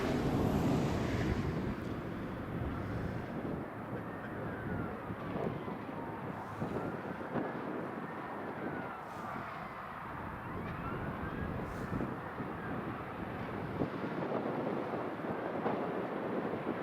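A Kuwait Airways Airbus A340 departs Prestwick Airport with a loud sustained jet roar and shifting whine that holds through the whole stretch, with wind rumbling across the microphone.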